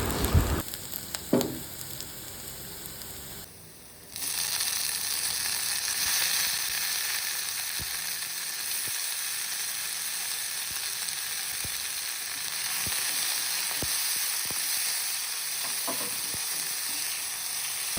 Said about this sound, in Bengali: এরপর টমেটোগুলো ভালো মতো ভেজে নিতে হবে।